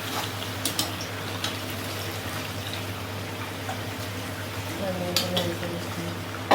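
Butter chicken fries in a pan while being stirred, giving a constant close sizzle with a few sharp scrapes and clinks of the spoon against the pan.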